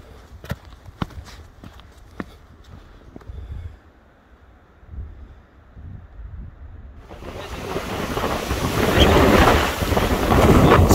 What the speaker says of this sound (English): I said the wind has picked up a little bit